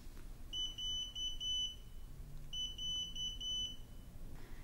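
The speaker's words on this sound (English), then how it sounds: "You will hear a single beep. This will be followed by a set of four beeps." Two groups of rapid high-pitched electronic beeps from an OmniPod insulin pump controller, a single beep then a set of four, separated by a brief pause over a faint background hum.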